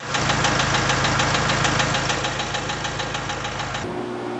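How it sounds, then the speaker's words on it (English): A tractor engine with worn connecting rod bearings runs with a steady, rapid metallic knocking over a constant engine drone, loud and close, without talk, until it cuts off near the end. "there's a knocking noise in there"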